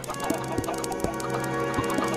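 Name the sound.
chickens clucking in video game Minecraft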